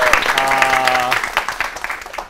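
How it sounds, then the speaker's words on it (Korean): Studio audience applause greeting lecturer Kim Chang-ok, a dense steady patter of clapping that fades toward the end, with a host's voice briefly heard over it at the start. "우리 김창옥 쌤 또 멋진 강의 여러분 큰 박수로 청해 듣죠"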